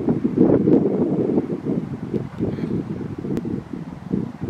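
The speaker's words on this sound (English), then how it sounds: "The wind is gusting past now." Wind buffets a DJI Osmo Action camera's built-in microphone in rumbling low gusts, swelling and easing throughout with no voices.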